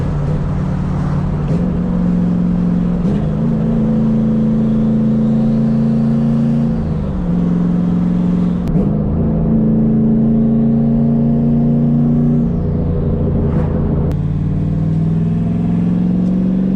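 A turbocharged Ford Mustang making over 500 hp drives along back roads, its engine droning loud and close with repeated rises and drops in pitch as it accelerates and shifts through gears.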